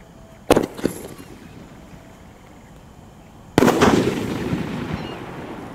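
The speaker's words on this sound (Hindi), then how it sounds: "और ये चला हमारा स्काई शॉट।" A Diwali sky shot firework launches with a sharp whoosh and crackle, then after a quiet pause bursts loudly with a long crackling fizz that trails off.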